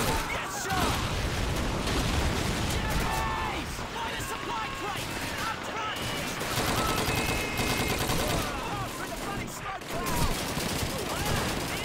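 Call of Duty 2 battle: rapid gunfire and fusillades crackle nonstop amid booming grenade blasts and shouted voices, a dense, loud, chaotic mix throughout.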